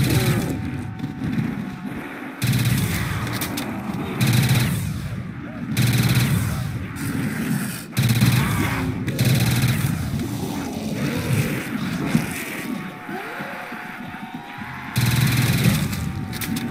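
Sustained gunfire in Call of Duty: World at War custom zombies mode while a Panzer is fought, loud rapid bursts of automatic fire broken by short pauses, with faint game sounds between volleys.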